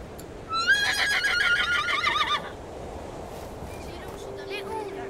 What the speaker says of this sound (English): The horse, a fiery, shy and untamable animal, now stood before Ike